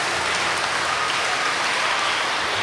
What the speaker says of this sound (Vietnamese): Xin cộng đoàn nổ một tràng pháo tay để chào đón Đức Giáo hoàng Francisco một lần nữa.